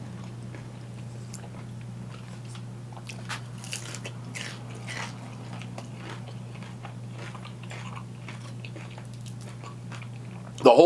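Crispy tiny pizzas being bitten and chewed close up, a series of short crunchy bites and wet chewing over a steady low hum, with a louder crunch right at the end.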